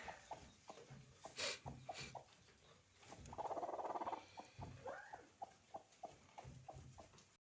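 A hen clucks in short, repeated bursts close by at feeding time on a village farm in western Ukraine, with scratching and pecking patter around her and a brief rougher squawk in the middle.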